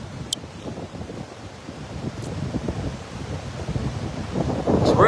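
Tropical storm gusts buffet the microphone at a beach, a continuous low roaring rush that swells louder toward the end, with surf in the background.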